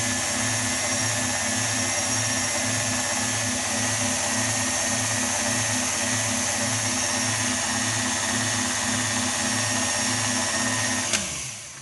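An electric mixer beating apple almond cake batter with melted butter, giving a steady close whirring hum with a regular pulsing rhythm that runs for about eleven seconds before cutting off.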